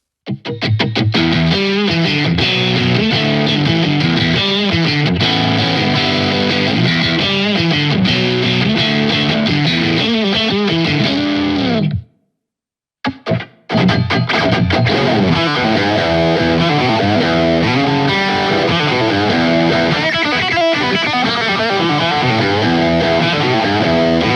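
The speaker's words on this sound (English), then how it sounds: "an articulated high-gain monster, offering more compression and sustain for modern, aggressive overdrive tones" Heavily overdriven electric guitar through a Kernom Ridge high-gain overdrive pedal chugs and rings with thick, compressed sustain, loud and continuous apart from a brief drop to silence midway.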